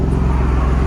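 The Ford Raptor's V6 idles through its Borla exhaust with a loud, close, evenly pulsing low rumble that stays steady throughout.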